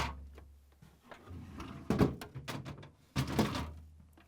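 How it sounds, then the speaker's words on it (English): Plastic crisper drawers being pulled out of a Samsung refrigerator, a series of sliding scrapes, clunks and rattles up close, with two heavier bumps as each drawer is lifted free, no voices. "To get the drawers out, you just have to pull out till they stop, then lift up on the front a little bit and pull them out"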